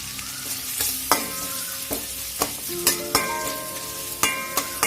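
Onions and curry leaves fry in a pan with steady sizzling, punctuated by crackles, pops and a few scraping stirs close by.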